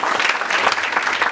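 Loud, dense applause from a business-group audience at a mentalism magic show, many hands clapping together in a brief, sustained burst with no talking.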